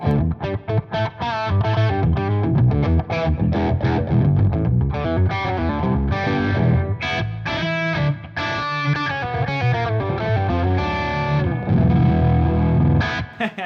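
Electric guitar through an overdrive screamer pedal, riffing with a gritty, saturated tone, loud and continuous with brief pauses between phrases.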